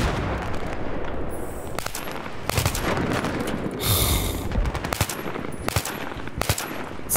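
Bursts of rapid gunfire crack in short volleys over a noisy background, with single louder shots scattered between them, in the video game Battlefield 3.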